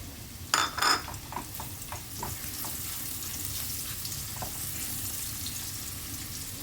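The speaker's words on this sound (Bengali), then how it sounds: "গাজরটা হালকা ভাজা হচ্ছে" Carrots sizzle and fry in a hot pan, a couple of stirring clatters near the start, then a steady hiss of frying.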